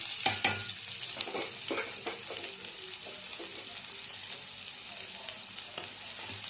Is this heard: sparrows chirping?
no